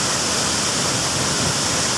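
Twin waterfall at Bangun Rejo in Solok Selatan, West Sumatra, a loud, close, unbroken rushing roar of falling water with no voices.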